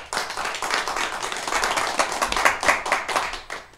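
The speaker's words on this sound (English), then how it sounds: "give Johnny Hunt a good round of applause." A room full of people applauding for Johnny Hunt, dense continuous clapping with some louder individual claps standing out, held at a steady level throughout.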